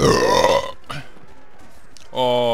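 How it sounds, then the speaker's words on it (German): A loud, drawn-out burp opens the clip, and someone speaks briefly right after it. "das war ein Rülpser des Ruhms"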